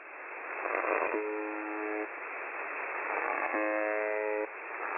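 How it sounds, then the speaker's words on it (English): A Russian shortwave buzzer station transmitting over radio, a steady rough droning buzz in band-limited static, with two longer tonal bursts of harmonic buzzing standing out midway and near the end. "First I caught the buzzer transmitting as normal."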